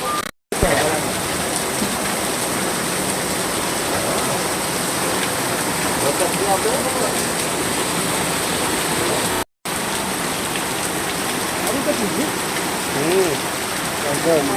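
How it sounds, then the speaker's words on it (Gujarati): Heavy wind-driven rain pours down in Paliyad, Botad district, Gujarat, a dense, steady roar that fills the whole clip with only two momentary dropouts. "પાળિયાદમાં ધોધમાર વરસાદ"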